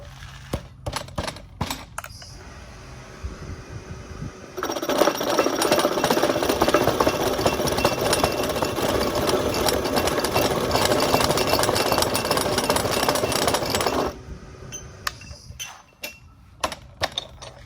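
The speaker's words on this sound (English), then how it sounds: "this is an end mill notcher from Middler Bros" A Middler Bros end mill notcher with a rough cut end mill bit cutting steel tubing in a fabrication shop, a loud continuous grinding buzz for about nine seconds, framed by scattered clanks and knocks before and after.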